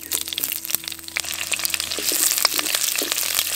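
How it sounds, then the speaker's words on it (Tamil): Green chillies fry in hot sesame oil in a pan for mutton chukka, crackling and spitting loudly and close, with popping that grows denser toward the end. No voices. "எண்ணெய் காஞ்சதும் இப்ப பச்சை மிளகாயை சேர்த்துக்கலாம்."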